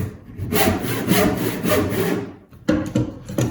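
A hand saw cuts mortise lines into a timber mallet head in close, rasping strokes back and forth, with a short pause before the sawing resumes.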